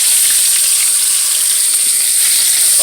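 Fish frying in hot oil in a pot, a steady, loud hiss of sizzling that runs without a break from start to finish, with no voices over it.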